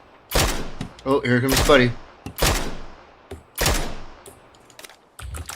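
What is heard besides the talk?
gunfire from enemies in a video game shooter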